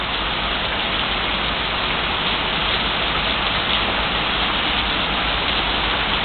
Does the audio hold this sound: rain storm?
yes